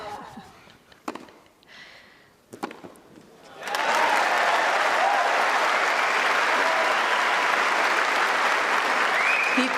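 Sustained applause from the tennis crowd at Wimbledon swells in abruptly after a few seconds of quieter murmuring and scattered claps, then holds steady and loud to the end.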